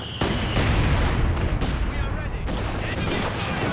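Dense, sustained light machine gun fire rattles through a Company of Heroes 2 battle, with overlapping bursts of gunfire filling the whole stretch at a steady, loud level.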